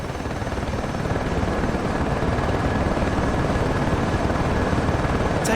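Apache attack helicopters in the combat flight simulator DCS World in a Persian Gulf campaign, a loud, steady rotor chop and engine drone that swells slightly and continues without pause.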